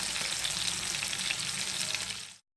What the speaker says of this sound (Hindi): अब आप देख सकते हैं हमारे फ्राई हो चुके हैं